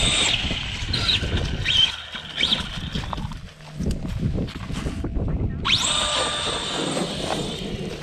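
Arrma Granite 4x4 brushless RC car with a new HD input gear and tightened slipper running outdoors, its electric motor whining up and down in high-pitched bursts, close and loud, with a brief quieter gap midway.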